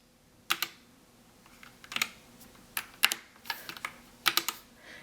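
Keys are pressed on a Geek GK61 60% mechanical keyboard with Gateron optical switches, making sharp, close clicks in short irregular clusters separated by quiet pauses.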